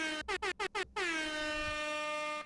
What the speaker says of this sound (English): Like this preloaded air horn